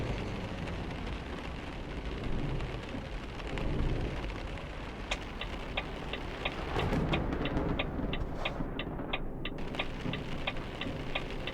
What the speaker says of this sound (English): That thunder and lightning sounds bang on as well.